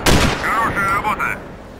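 Gunfire in the video game Sniper Ghost Warrior: a sharp, loud shot opens, followed by rattling bursts and tonal effects, with a voice speaking over part of it.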